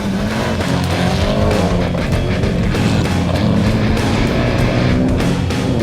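A rally car racing through a motorsport rally in Coimbatore, engine roaring loudly and continuously with tire noise and skidding, close and sustained throughout with no voices.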